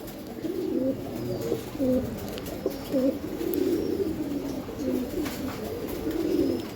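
Pigeons of an army-generation racing line, kept at a pigeon farm, coo in repeated low throaty phrases, several birds close by calling in overlapping bursts with no voices.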